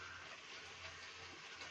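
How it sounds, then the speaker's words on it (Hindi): Water poured into a bowl of ground hemp seed for a pahadi red pumpkin chutney, a soft steady pouring rush, faint and close, with no talk. "तो मैं इसमें पानी डालती हूँ"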